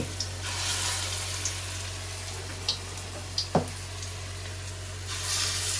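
Large lentil fritters (bora) fry in oil, giving a soft steady sizzle with a few sharp clicks and a louder pop near the middle, and no voices.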